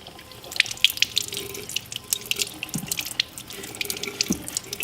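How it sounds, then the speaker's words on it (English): Tap water splashes and patters into a sink as excess sand is washed off a sand carving, a close uneven spattering flow with small drips and knocks and nothing else over it. "Just washing off excess sand."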